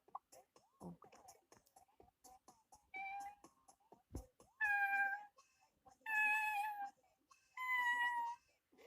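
A person imitates a cat, giving three drawn-out, high meows, each louder than the last. Quiet clicks and shuffling come between them.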